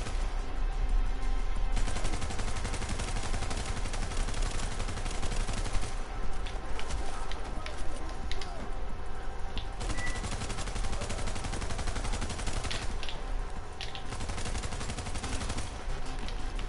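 Heavy enemy gunner firing in The Division, sustained loud automatic gunfire with dense repeated bursts and impacts throughout, nearly unbroken, with no talk.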